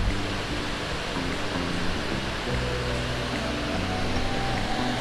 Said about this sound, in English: The waterfalls goes all the way down that way.